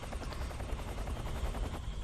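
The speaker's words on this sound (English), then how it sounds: "here comes the chopper" A helicopter in the Metal Gear Solid 3 video game thrums with a steady, rapid rotor chop that fills the mix at a fairly low level, continuous throughout.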